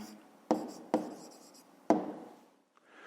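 Pen or marker strokes writing out a fifth-grade math word problem, three sharp taps that each trail into a softer scratch, close and fairly quiet, with no talking.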